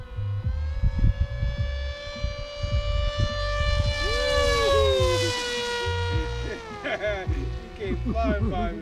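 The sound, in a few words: Ritewing Drak RC flying wing flying past at top speed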